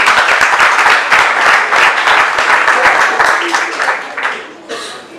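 Audience applause at an association's open-house event, a dense burst of many hands clapping close and loud, which thins out and fades toward the end.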